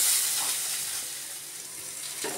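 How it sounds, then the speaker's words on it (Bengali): Chopped garlic and ginger sautéing in a hot pan give a steady, close sizzle and crackle that fades slightly over a couple of seconds, with no talk. "এবার সবগুলো নিয়ে একটু ভালো করে সাঁতলে নেব।"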